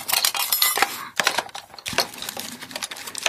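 Rummaging through a small box of metal bits in search of a scalpel blade during a Squier Telecaster setup, close, loud rattling and clinking in irregular bursts with short pauses, and no talking.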